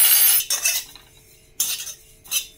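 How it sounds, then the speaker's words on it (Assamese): Fennel and cumin seeds being dry-roasted in a kadai, with sharp scraping and clinking of a metal spoon stirring against the pan in short bursts, close and fairly loud, with no talk. "কেৰাহীটো বহাই প্ৰথমে মই চফ গুটি এচামুচ আৰু জিৰা এচামুচ ভাজি লম।"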